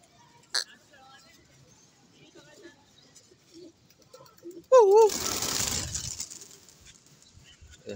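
Pigeons coo and a burst of flapping wings swells up, with people talking nearby and wind noise in the background.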